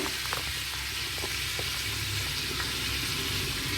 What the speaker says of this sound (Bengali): দেখো এই তেলের মধ্যে ফোড়নের জন্য দিয়ে দিচ্ছি তিনটে এলাচ দুটো দারচিনি